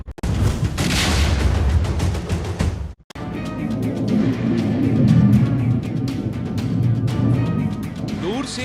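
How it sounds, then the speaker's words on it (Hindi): A short, heavy blast at the start, then a sudden cut and a long low rumble with debris-like crackling, heard from a distance, a wartime explosion in Irpin, Ukraine. "यूक्रेन के इरपिन शहर में यह धमाका कैमरे में कैद हुआ।"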